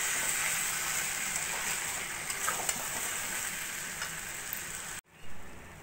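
Taro stolons sizzle steadily in a pan over a low flame with chopped green chili stirred in, a continuous close frying hiss with faint crackles and soft stirring scrapes that cuts off abruptly near the end.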